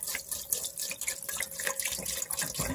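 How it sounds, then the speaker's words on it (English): Vinegar pouring into a burnt cooking pot, a continuous splashing liquid stream with fluttering, uneven gurgles, close and fairly loud, no voices. "let me add the vinegar."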